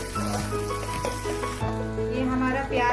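Onions browning in a pan with ajwain, curry leaves and green chilli give a steady, close sizzle with occasional stirring scrapes, with no talking.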